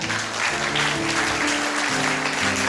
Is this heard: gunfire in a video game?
no